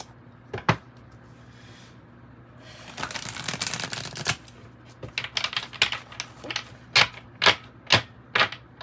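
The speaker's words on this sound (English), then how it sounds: "now we'll pull from some tarot" Tarot cards being shuffled close by: a dense riffle in the middle, then a run of sharp separate snaps and taps, with no talk.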